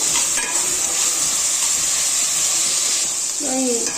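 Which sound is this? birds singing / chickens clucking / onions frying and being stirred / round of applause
onions frying and being stirred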